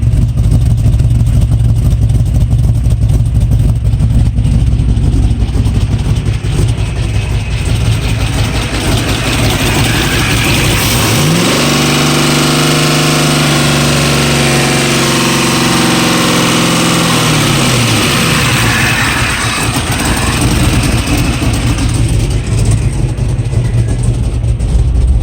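An engine with no cooling system hooked up runs loud and close with a steady, rough rumble, its pitch dipping and rising once in the middle as it revs down and back up.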